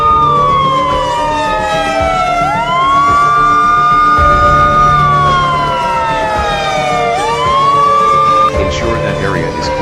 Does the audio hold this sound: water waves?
no